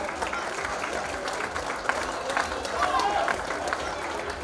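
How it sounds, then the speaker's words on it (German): An outdoor crowd at a town festival in Wetzikon claps steadily for several seconds, the dense applause joined by a few scattered voices. "das ist Applaus wert"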